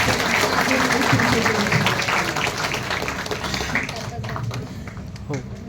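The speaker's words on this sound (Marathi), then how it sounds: "टाळ्या वाजून स्वागत करूया" Audience applause welcoming performers on stage at a Marathi comedy show, a dense, steady clapping throughout that thins out near the end, with voices mixed in.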